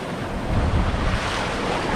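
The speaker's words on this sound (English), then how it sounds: "Give me a big splash." Atlantic ocean surf washing onto a rocky Maine shore near Portland Head Light, a steady close roar of breaking waves with wind buffeting the microphone, swelling briefly midway.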